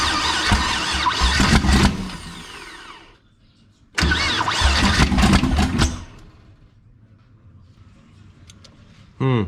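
An LS1 V8 in a twin-turbo wide-body Skyline race car cranks over on the starter with a spark plug pulled for a compression test, two loud bursts of squealing, churning cranking separated by a short pause, then a quieter tail.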